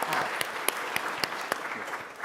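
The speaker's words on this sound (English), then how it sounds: "we should really give ourselves and the governor and the state a round of applause for that" Conference audience claps together, a dense, moderately loud stretch of applause with a few sharper individual claps standing out, and no voices heard over it.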